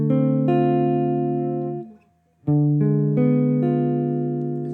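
Jazz guitar strums a chord and lets it ring, fades to near silence, then plays a diminished chord in a deceptive cadence followed by a few more chords, all sustained and close with no talking.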